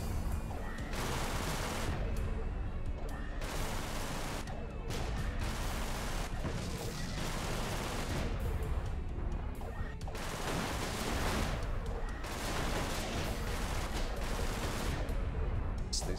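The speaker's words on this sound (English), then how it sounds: "I like the pretty explosions" Repeated explosions and heavy weapon fire in the space shooter Everspace, loud and continuous with dense overlapping bursts and booms throughout.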